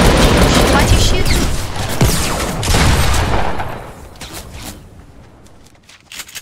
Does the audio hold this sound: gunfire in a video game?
yes